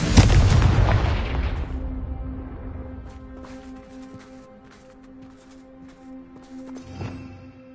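A loud booming Confringo blasting spell explosion in Hogwarts Legacy, a heavy blast at the start that rumbles and decays over several seconds, followed by faint clicks and a smaller thump near the end.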